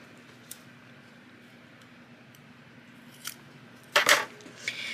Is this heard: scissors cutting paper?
yes